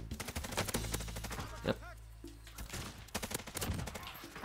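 Bruen MK9 light machine gun firing in the Warzone shooter, rapid bursts of close, loud automatic fire repeating through the moment with short pauses and game background noise.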